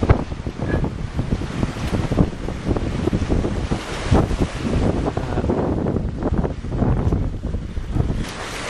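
Gusting wind and sea waves surge continuously aboard a Lagoon 380 catamaran sailing in the Caribbean in 25-knot winds, loud and close, with wind buffeting the microphone throughout and no voices.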